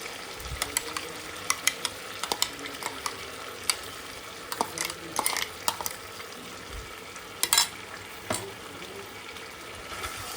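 Chicken cooks with a ready-made spice paste for chicken kosha, a low sizzle broken by irregular scraping and tapping of a spoon stirring in the pan, close and without talk.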